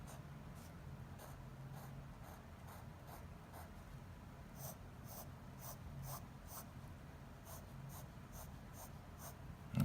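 An extra fine Edison fountain pen nib drawing swirls on paper: faint, soft scratchy strokes repeating in quick rhythmic bursts over a quiet room hum, close to the page and with no talking.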